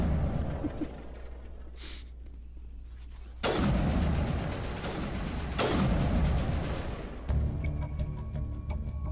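Hip-fired automatic weapon bursts in the video game Mass Effect, dense rapid gunfire in long sustained strings with brief gaps, loud and close, with mechanical clicks between volleys.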